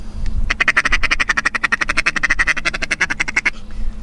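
Feeder call blown on a duck call, mimicking many ducks feeding: a fast, steady stream of rapid clucking quacks lasting about three seconds, close and loud with no talk.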